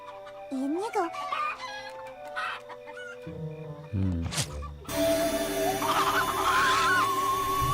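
Cartoon chickens cluck and squawk in a busy scene from a My Little Pony animated episode, with bursts of fowl calls over a music bed and a louder flurry of clucking toward the end.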